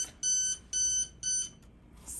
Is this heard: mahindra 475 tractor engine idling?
no